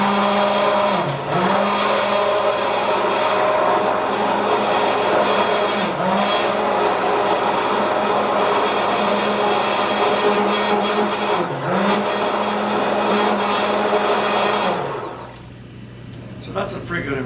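Stick blender whirring through a soap batter for chocolate marshmallow brownie soap, a loud continuous motor drone with the pitch dipping briefly every few seconds as it works, stopping abruptly near the end.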